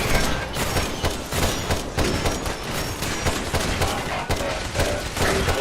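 Sustained rapid gunfire in Fallout 4, loud and close, with a dense rattling stream of shots and a few sharper bursts, no talking.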